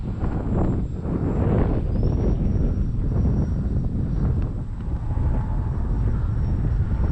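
A Parkzone T-28 radio-controlled model airplane flies in wind, a steady distant motor drone under heavy wind rumble that buffets the microphone throughout, with a faint rising whine as the plane passes.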